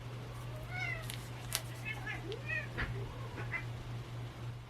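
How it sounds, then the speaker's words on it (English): Cats fight somewhere outside, distant wavering yowls and caterwauls rising and falling over a steady low electrical hum, with no one speaking. "can you hear the cats fighting?"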